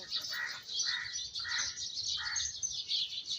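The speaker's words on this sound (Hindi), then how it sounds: "ये देखिए परिंदे" Birds, with kites among them, chirp in a steady stream of high, repeated calls, with short lower-pitched bursts recurring about every half second, fairly close over faint background noise, outdoors after rain.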